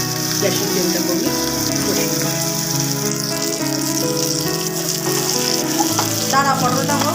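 Pointed gourd and shrimp fry in a pan with spices over a lowered gas flame, giving a steady, fairly loud sizzle throughout while music or voices carry on underneath.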